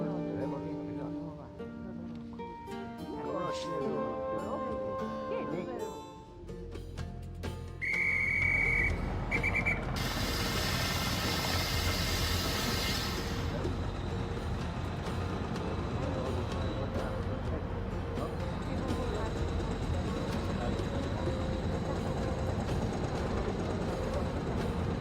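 A steam locomotive whistle sounds briefly, then a long, steady rumble of the rolling Orient Express train carries on throughout. Music and talk run underneath, set in a Hercule Poirot mystery game.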